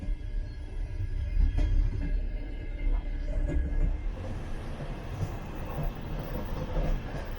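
An evacuation train in Ukraine rumbles steadily along the rails, a continuous low roar with faint clicking from the wheels, fairly close and with no talking.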